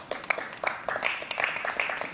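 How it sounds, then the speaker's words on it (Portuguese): An audience at an outdoor street religious gathering claps steadily and continuously, a moderately loud patter of many hands that keeps going without a break. "Por favor, uma salva de palmas a esses comentaristas."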